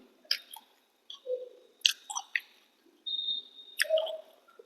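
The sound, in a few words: chewing fish roe fritters with fish curry and rice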